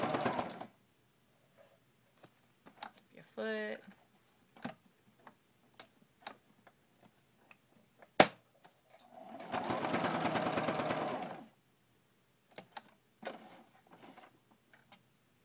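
A sewing machine stitches fabric strips for a confetti rag rug, with a few short clicking bursts and one sustained run of needle chatter, then scattered ticks between quiet pauses.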